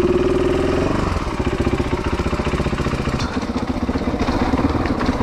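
A KTM 500 dirt bike engine runs steadily on a hill climb at Browns Camp, a close, loud throbbing idle that keeps its rough pulsing rhythm throughout, with no talk.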